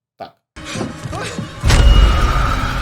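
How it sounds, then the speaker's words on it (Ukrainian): Glass shatters violently in a horror-film sound effect, a sharp crash followed by a deep booming thud and scattering debris, loud and alone after a brief faint noise. "Тут йому привид розбив вікно."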